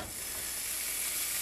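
Ground beef sizzles in a frying pan over medium-high heat, a continuous crackling hiss that stays even and close throughout.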